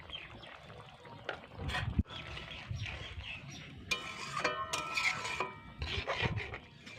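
Paneer and green bean curry simmering in a pan, seasoned with ground cardamom and cinnamon, stirred with a utensil: soft scraping and clinks of metal against the pan over a low bubbling background, with a few sharper knocks.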